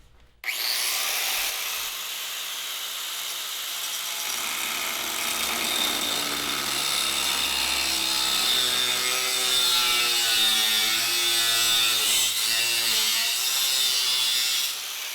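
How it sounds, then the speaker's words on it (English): An angle grinder cuts miters for a coffee table, a loud sustained grinding whine that runs steadily for about fifteen seconds, shifting slightly in pitch as it bites, then stops abruptly. "Anytime I'm cutting with a grinder."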